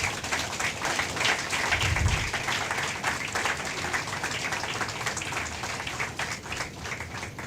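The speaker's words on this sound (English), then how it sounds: "Can we have a big round of applause here?" A conference audience gives a sustained round of applause at a cyber psychology event. Dense, fairly even clapping fills the room for several seconds at moderate distance, with no voices over it.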